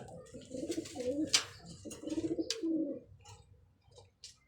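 Pigeons kept for sale give soft, close, low throaty coos in rolling bursts, with a few brief clicks and flutters in between.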